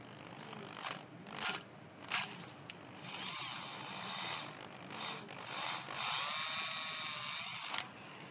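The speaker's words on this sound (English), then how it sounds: "So just drilling the hole for the stainless steel air supply pipe." A drill bores a hole for a stainless steel air supply pipe on a small metal-melting foundry, with short whirring bursts and scraping followed by a longer steady grinding run, faint and close.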